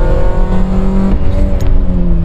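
Engine of an Opel Corsa, an older rusty car, drones steadily while driving at moderate revs, gears not pushed hard, a close continuous hum with faint whirring and no talk over it.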